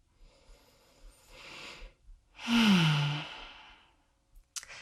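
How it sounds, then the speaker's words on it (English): A deep breath taken in and released during a plantar fascia self-massage, a soft inhale followed by a louder, longer sighing exhale, close and quiet, with no talking. "take a full breath in and out"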